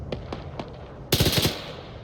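Automatic gunfire in the military video game Arma 3, a few spaced single shots followed by a loud rapid burst of fire, with no talking.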